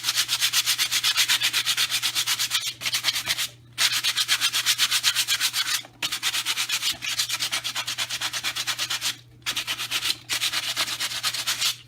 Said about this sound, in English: And so I'm just going to sand it.